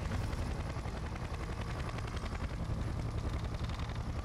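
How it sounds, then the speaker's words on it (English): An attacking helicopter in the video game Splinter Cell Conviction gives off a steady, dense rotor thudding that stays constant and fairly faint, with a rapid chopping pulse and no voices. "I'm taking fire from that chopper."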